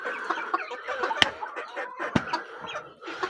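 Cochin chickens and roosters cluck and chatter close by in a busy backyard coop, with a couple of sharp knocks cutting through the steady fowl noise.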